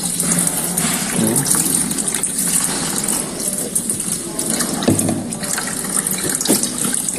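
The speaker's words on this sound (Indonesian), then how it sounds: "Air mengalir, Bapak Ibu, di bawah sana." A scoop of water poured into a newly installed wastewater pipe trap gushes and gurgles through the pipe, loud and close, with surging swells of flow.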